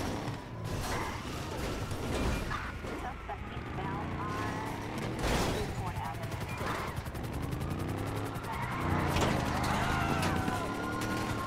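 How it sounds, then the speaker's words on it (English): Gunfire in Grand Theft Auto V during a police chase, bursts of shots and vehicle noise mixed with dense game sound and crashes, fairly busy and continuous, with a voice talking over parts of it. "lots of gunshots happening, lots of units honing in on my position here"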